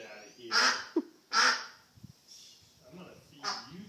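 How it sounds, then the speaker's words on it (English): A pet duck gives several loud, harsh honking calls in short bursts, close by, with a few softer sounds between them. "Well, I think it's a pet duck."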